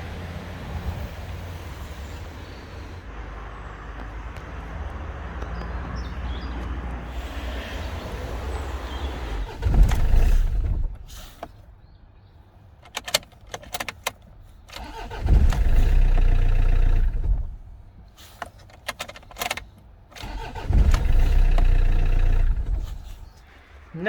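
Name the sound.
Land Rover engine starting then cutting out after a second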